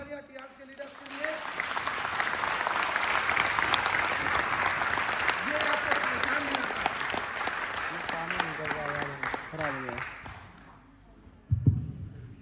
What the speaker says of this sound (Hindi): तो एक बार जोरदार तालियां टियांस के लीडर के लिए।